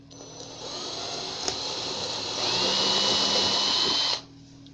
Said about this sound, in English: you go and use the same type of drill, the stepper bit